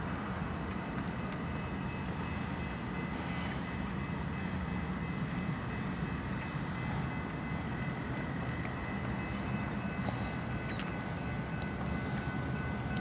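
A BNSF freight train does switching moves in a rail yard, producing a faint, continuous rolling rumble with occasional metallic clanks and squeals in the distance.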